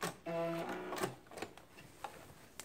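A sewing machine backstitches a skirt seam in one short burst of rapid stitching, close and quiet, followed by a few light clicks and fabric handling.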